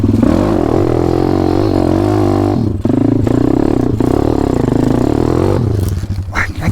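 A loud, close dirt bike engine revs hard and continuously as the rider tries to climb a bank on a trail. The engine briefly drops out twice, then roars again and ends with clattering and scraping.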